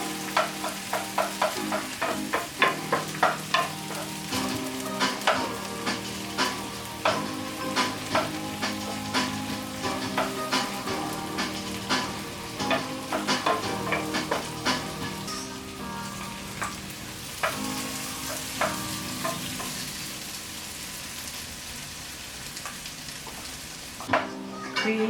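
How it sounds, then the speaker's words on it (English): Vegetables with garlic simmer in coconut juice and coconut cream over medium heat. A constant soft bubbling and sizzle runs under a rhythmic series of sharp spoon clinks and stirring knocks against the pan, with no talk. "And let everything simmer in the coconut juice."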